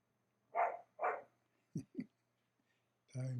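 A puppy gives two short barks, then two sharper yips, followed by a brief vocal sound, close and fairly loud against a quiet room.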